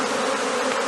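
A honey bee swarm hangs in place before being captured, giving a dense, steady buzzing drone that stays loud and unbroken throughout, close by, with no voices.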